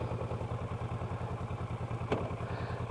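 Kawasaki Versys 650 LT motorcycle engine running steadily while riding on a breezy, chilly day, a continuous close low rumble with a single sharp clack near the end.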